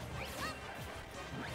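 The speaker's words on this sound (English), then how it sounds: "And then Jen just forward smashes him" A forward smash attack lands in a Super Smash Bros match at a tournament, a short hard smack with a swishing whoosh over a steady bed of game noise and crowd murmur.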